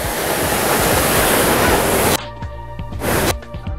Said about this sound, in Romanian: Toată apa din bazin care vine aici și se scurge spre Arieș